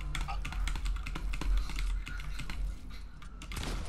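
Rapid computer keyboard taps and mouse clicks rattle up close during Fortnite play, while people talk throughout.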